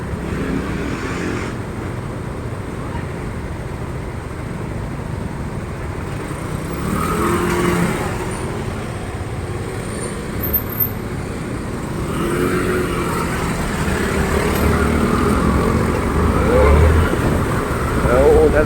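Motorcycles, including automatic scooters, and cars accelerating in road traffic on Ayala Extension toward Circuit, a steady rumble of engines with rising revs and passing swells, close and continuous, with someone talking over it.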